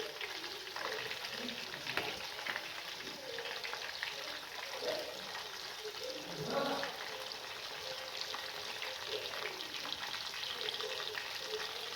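Chicken kebab pieces fry steadily in hot oil over a medium flame, a continuous close sizzle with occasional splutters and soft stirring, no talking.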